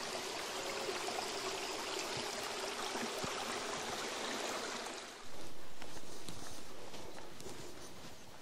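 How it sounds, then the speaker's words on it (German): Steady broadband rush of a babbling stream in Germany's Schlaube valley, continuous and fairly close, with a few faint knocks and footstep-like taps over the water. "Plätschert wieder schön hier."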